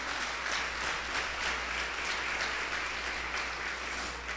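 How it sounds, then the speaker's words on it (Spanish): A church congregation applauds the Lord in a sustained, steady wash of clapping that holds at an even level throughout, with no voices standing out above it. "Démosle un aplauso al Señor, hermanos."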